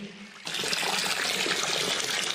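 Lukewarm water summoned by magic to fill a bath, starting suddenly after a quiet moment and then pouring as a steady, loud gush and splash.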